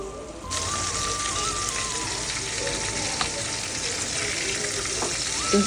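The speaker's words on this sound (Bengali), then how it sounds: "আমার মাছগুলো ভালো মতন ভাজা হয়ে গেছে" Fish pieces fry in a pan, a steady close sizzle that starts abruptly and crackles evenly throughout, with a faint tone and a small clink near the end.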